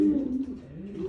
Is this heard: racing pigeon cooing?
yes